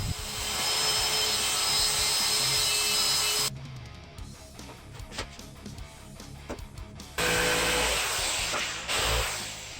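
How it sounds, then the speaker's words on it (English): Power saws cut wood for a tabletop: a loud, continuous circular saw whine runs for several seconds, then gives way to a rougher, choppy jigsaw rasp before the heavy cutting noise resumes, with no voices. "I use the circular saw and a straight edge to finish the majority of the cut"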